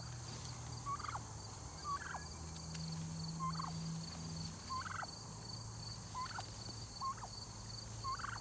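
Wild turkeys gobble again and again outdoors near an elderberry harvest, about one call per second, moderately distant over a steady background hum.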